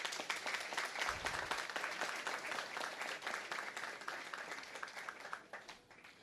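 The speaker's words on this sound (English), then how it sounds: "Give her a round of applause on her retirement" Audience applause at a retirement tribute during a Superior Court investiture ceremony in the US Virgin Islands, a dense, steady wash of many hands clapping that carries on for several seconds before starting to thin out.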